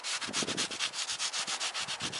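The scouring side of a sponge scrubs an oily engine cover on a 2008-2013 Toyota Corolla, making steady, close rasping strokes in an even back-and-forth rhythm of roughly a dozen passes.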